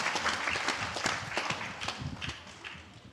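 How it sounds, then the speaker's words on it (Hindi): Scattered applause welcoming Acharya ji at a live Shrimad Bhagwat katha gathering, fairly faint and uneven, with distinct claps that thin out toward the end. "एक बार तालियां बजा के पूज्य आचार्य जी का हम स्वागत सम्मान करते हैं।"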